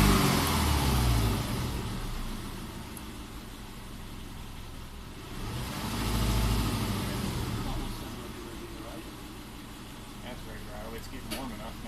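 A Subaru engine with a high-idle fault runs at idle, a low steady hum that swells briefly midway and settles again, heard under conversation.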